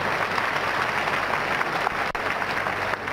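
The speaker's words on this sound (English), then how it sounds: "let us clap for Jesus Christ" Loud, sustained clapping from a large church congregation in an arena, steady and dense throughout with no voices rising above it.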